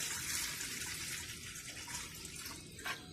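Water poured into a pot for cooking vermicelli, a steady close splashing gush that keeps going throughout and ends in a brief bright splash, with no talking.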